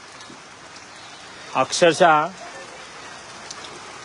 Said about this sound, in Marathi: एकदम खतरनाक पाऊस पडतोय काशीळमध्ये.